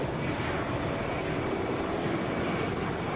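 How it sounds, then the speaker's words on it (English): A Delta Boeing 717 jet at Atlanta International Airport, a loud, steady broadband engine roar that holds evenly throughout without pause or voices. "This is Delta 1065 headed for Melbourne in a Boeing 717."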